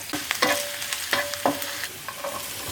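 Chopped green chilli, ginger and garlic sizzle in hot oil in a pan, a steady close frying hiss broken by sharp stirring scrapes and spatula clicks, with no voices.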